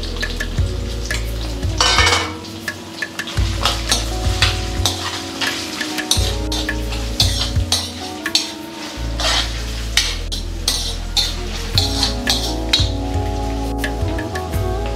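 Chopped onions dropped into a pan with cardamom and cloves, frying with a steady sizzle while a spoon stirs and scrapes against the metal in repeated clatters.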